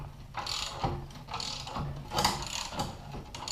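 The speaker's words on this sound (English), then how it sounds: "I'll take a 1/2-inch drive ratchet and a 3/4 socket" A 1/2-inch drive ratchet with a 3/4 socket clicks in repeated close strokes while compressing a front suspension coil spring, its pawl rattling in uneven bursts with no talking.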